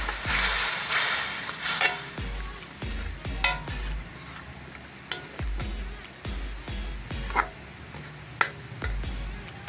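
Masala sizzling in a pan while a spoon stirs it, with repeated scraping strokes and clinks against the metal over a constant frying hiss, close and fairly quiet, no talking.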